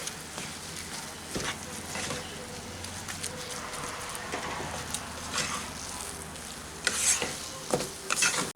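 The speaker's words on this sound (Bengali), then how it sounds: "খুব ভালো করে এই ডালের সাথে মিশিয়ে নিচ্ছি এটাকে" Poppy seed paste being stirred into simmering red lentil dal, with quiet bubbling and intermittent scraping of a spoon against the pot, growing busier and louder near the end.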